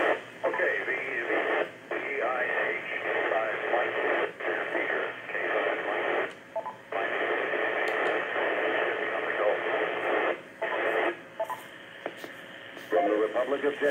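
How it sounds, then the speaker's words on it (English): An FM amateur radio repeater near Dallas–Fort Worth, Texas, comes through a receiver as a band-limited, static-edged transmission in long bursts with brief gaps and squelch tails, with voices heard over the channel. "repeater just ID'd"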